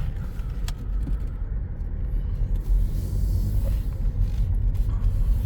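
A 2016 Honda Civic EX-T drives along with a steady low road rumble and engine hum from inside the cabin, growing slightly louder toward the end, with no one talking.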